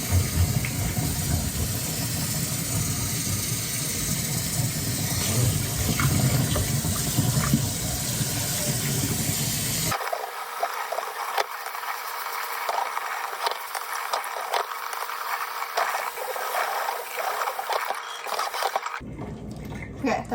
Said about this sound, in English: I just rinse it until the water starts going clear and not this really dark brown.